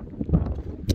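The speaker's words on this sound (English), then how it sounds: "It's just way too windy out here." Strong gusty wind buffets the microphone outdoors on a desert trail while searching for a Gila monster, with low rumbling bursts and a sharp gust near the end.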